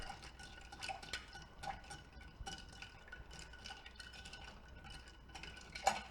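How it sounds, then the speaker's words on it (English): A spoon stirs an apple butter cocktail in a glass, giving a quiet, steady run of soft clinks and swirls with a few sharper taps against the glass. "Give it a good stir."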